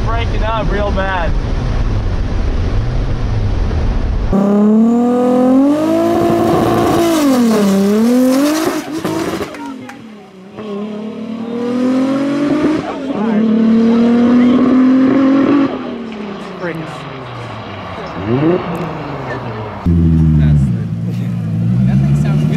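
A race car launches off a two-step launch control, its loud engine braying and climbing through gears in sweeping revs. The sound is close and harsh, with wind buffeting the microphone and people talking intermittently.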